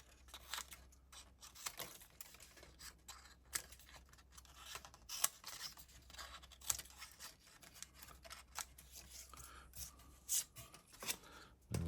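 Repeated crisp snips of Stampin' Snips scissors cutting paper for Christmas cards, irregular and close, with faint rustling between the cuts and no talking.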